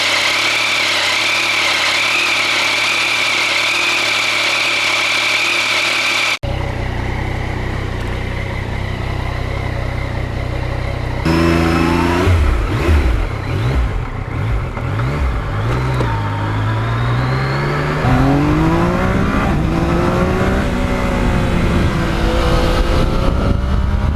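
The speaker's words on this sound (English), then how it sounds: "there's just something about that polished exhaust, the sound coming out of there at full throttle" A Yamaha MT-09 motorcycle with a polished exhaust idles, then after a cut the engine howls loudly through rising full-throttle pulls with gear shifts, sweeping up and down in pitch.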